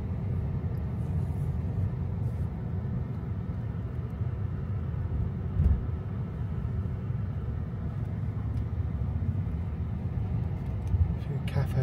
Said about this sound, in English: Here we are driving through the main drag of